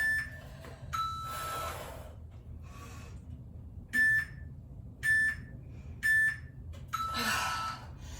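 Short, sharp electronic beeps from a workout interval timer, with three evenly spaced beeps about a second apart near the end and a couple of earlier ones, over a steady room background with some movement noise.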